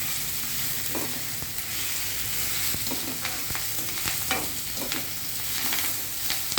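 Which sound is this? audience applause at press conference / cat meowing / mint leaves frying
mint leaves frying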